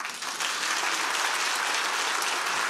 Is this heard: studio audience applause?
yes